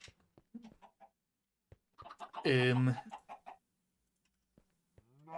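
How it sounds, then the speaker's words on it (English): Chickens in Minecraft, a video game, cluck in short scattered bursts, with one louder, longer squawk in the middle. A voice briefly speaks. "Is that a pink chicken?"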